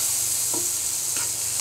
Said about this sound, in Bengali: এটা আমি হালকা করে তেলের ভেতরে একটু ফ্রাই করে নিব